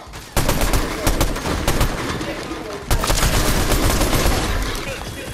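Rapid bursts of gunfire in the Fortnite video game, sharp cracks in quick clusters with a short pause before a second flurry, loud and close.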